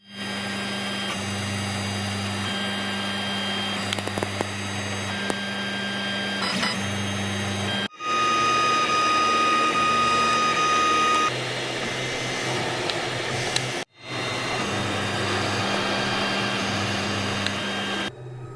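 A Tevo Tornado 3D printer runs a test print up close, a steady mechanical whir and hum with stepper-motor tones and fan noise, broken by two brief pauses as the motion changes.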